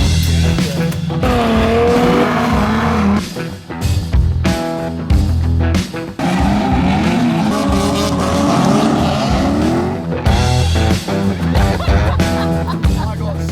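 A car drifting at an abandoned track revs hard with repeated sharp tire squeals and skids, loud and close, engine bursts cutting in and out; no talking.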